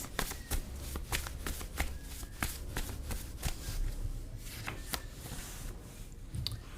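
Tarot cards being shuffled by hand, a rapid run of crisp riffling flicks repeating steadily throughout, close and fairly quiet, with no talk.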